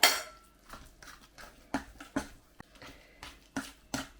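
A spoon knocks and scrapes around a bowl of pancake batter in irregular strokes, with soft clinks at close range and no talking.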